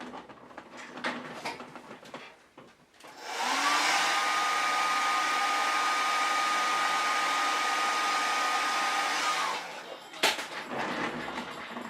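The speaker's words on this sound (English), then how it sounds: "if you hit it with a blow dryer," A hair dryer blows steadily on fresh paint to clear a cloudy finish, switching on loud and running continuously for about six seconds before cutting off, with a constant whine over the airflow.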